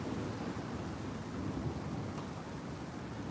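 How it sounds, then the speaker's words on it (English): Thunder from a severe Arizona thunderstorm rumbles continuously with rain falling steadily, a dense low roar that stays level throughout with no voices. "Starting to hear that thunder."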